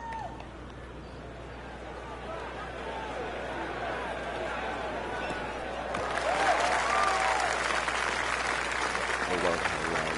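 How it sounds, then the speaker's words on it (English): Crowd applause and cheering from a golf video game swells loudly after a quiet stretch of background babble, with a player talking faintly underneath. "I love how loud the crowd gets when you do something."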